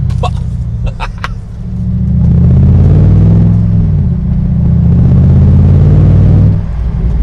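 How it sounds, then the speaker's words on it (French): A 2016 Morgan Aero 8 Roadster engine booms with deep, loud resonance as the throttle lifts and the gearbox downshifts, the low drone swelling and wavering over several seconds close up, with brief clicks at the start. "Dès qu'on relâche le pied de l'accélérateur, regardez, vous écoutez, on a la résonance."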